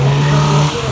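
A Lada car accelerates into a slalom at a meet in Izsák, a loud close engine drone with a steady tone that drops off near the end.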